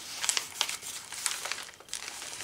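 Vintage ledger paper ruffle on a handmade Victorian-style journal, handled close up with a string of light, dry crinkles and rustles at an irregular rhythm, no talking.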